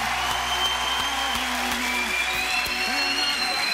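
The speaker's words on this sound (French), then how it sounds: "je vous demanderai si vous voulez bien quelques applaudissements pour Ludmilla Michael qui va nous quitter" A French TV studio audience applauds a departing guest, steady clapping with crowd noise while voices talk over it.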